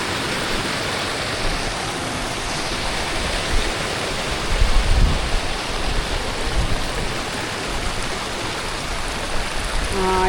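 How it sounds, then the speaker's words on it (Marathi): Rainwater rushes off a flooded village field during the monsoon, a loud, steady broadband roar of flowing water with a brief swell midway and no voices. "त्या वावरातून पाणी सगळं खाली लोंडा चाललं"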